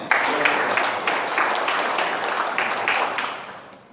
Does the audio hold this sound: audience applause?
yes